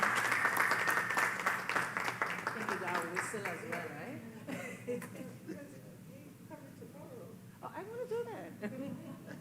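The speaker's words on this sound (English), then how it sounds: "Kindly give Dr. Erica an astounding round of applause" A forum audience applauds a speaker, a crowd of claps starting fairly strong and then fading out, with a host talking over and after the applause at moderate distance.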